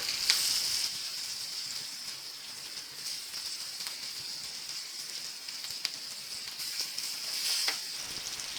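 Brinjal slices shallow-fry in oil in a pan, a steady close bright sizzle and crackle with no talking.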